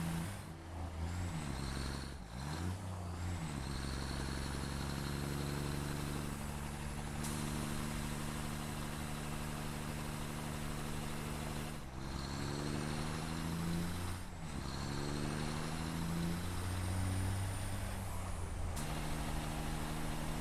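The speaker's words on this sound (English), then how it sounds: "But, man, I love the truck so much." A heavy hauling truck in the factory-building game Satisfactory rumbling along with a deep steady engine note, gear shifts and hissing air-brake bursts, faint and continuous, with no one speaking.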